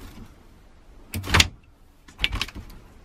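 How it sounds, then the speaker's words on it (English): A compressor fridge door in a 2020 Hobby Vantana K60 FT De-Luxe camper van is opened with two short, close handling thumps and rattles about a second apart, with no talking. "putting the compressor fridge in the front of the habitation door for easy access. And you can open it"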